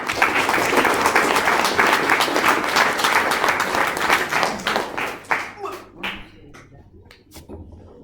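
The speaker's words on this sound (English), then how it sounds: "We'll give a round of applause anyway." A small group claps in a brief burst of applause at a Year 6 leavers presentation, which thins out and fades to a few scattered claps.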